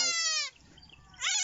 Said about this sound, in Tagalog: Oli, ito na yung kambing mo.